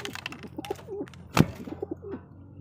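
Soft low pigeon coos repeat in short phrases nearby, with a sharp sudden noise in the middle and a few faint chirps.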